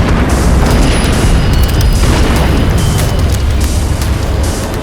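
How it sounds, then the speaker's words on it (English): A train caboose is blown up, producing a loud, deep, rumbling blast that fills the whole stretch with heavy low roar and crackling debris. "The explosion caused the caboose to slowly roll over and tip to one side."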